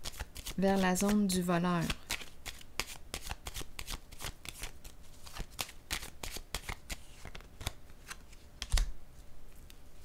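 A playing card is laid down on a table during a tabletop card game about a thief stealing a harvest. Light, soft card slides and taps come repeatedly and close, with someone speaking briefly at the start.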